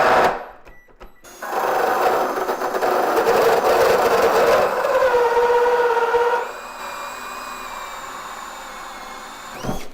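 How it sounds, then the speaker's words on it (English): A VEVOR hole saw is run through a wood board shot full of 15 gauge nails. It gives a loud, sustained grinding whine with a metallic ring for several seconds as it bites through, then drops to a lighter spin before stopping. "That cut right through those 15 gauge nails with no problem."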